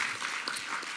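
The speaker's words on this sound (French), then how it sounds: "On peut vous applaudir une deuxième fois." Audience applause at a round-table debate in a French assembly hall, a steady dense patter of many hands clapping that fills the whole second at moderate level with no voices.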